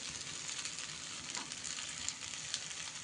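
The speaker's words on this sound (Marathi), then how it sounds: "आता ह्याही साईडने असेच भाजून घ्यायचे." Lentil appe batter sizzles in an appe pan while the second side cooks, a steady close frying hiss with faint crackles and occasional light stirring or pan contact, no voices.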